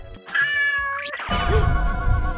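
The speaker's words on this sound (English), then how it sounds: "The cat was very hungry." A hungry cat lets out a loud, drawn-out meow close by, then another rising, wavering cry over a rumbling background.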